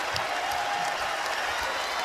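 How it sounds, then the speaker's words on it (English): A basketball arena crowd during a Wichita State versus Memphis NCAA game, a steady loud roar of cheering and applause filling the hall without letup. "And now the crowd is back."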